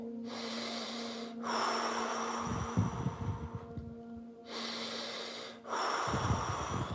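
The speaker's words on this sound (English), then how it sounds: "Last 10, keep on breathing." Loud, heavy breaths in and out, close to the ear, in a steady rhythm with brief pauses between long exhales and sharp inhales.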